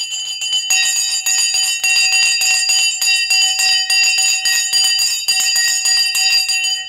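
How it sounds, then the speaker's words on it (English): The stock market opening bell rings continuously, a loud, rapid electric clanging with a bright metallic ring that holds steady throughout, close and alone without voices. "The bell has gone."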